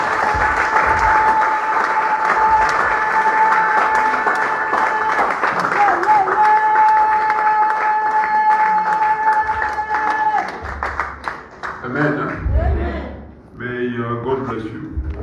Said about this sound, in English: Can you welcome him with a hand of applause?